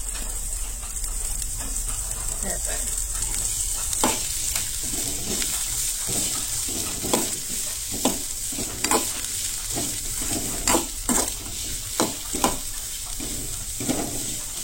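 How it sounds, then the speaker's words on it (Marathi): Capsicum, carrot and mixed vegetables stir-fried in a pan for veg pulao, a steady close sizzle broken by repeated spatula scrapes and knocks, alone with no talk. "सो मातशें अशें परतून घेवंक जाय सगळे भाजयो जे आसा ते"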